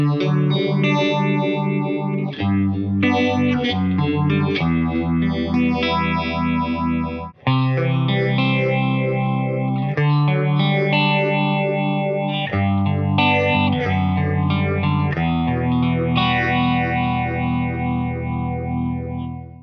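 Electric guitar through a Warm Audio Mutation Phasor II phaser pedal, a revival of a 1970s phaser, plays sustained chords and riffs with a swirling, sweeping phase wash, loud and continuous with no talking.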